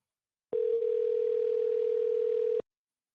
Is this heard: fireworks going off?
no